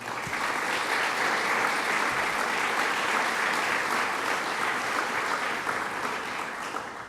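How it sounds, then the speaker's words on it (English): Dense, steady applause from the audience at a governor's bill-signing ceremony for a medical marijuana program, filling the room without a break and tapering slightly at the end. "And let's give them a round of applause."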